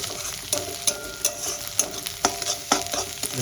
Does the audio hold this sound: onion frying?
yes